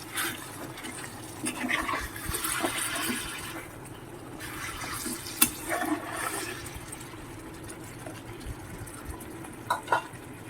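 Water poured into a pan of egg and potato curry, giving a few bursts of splashing and hissing sizzle at moderate volume, with utensil clicks near the end.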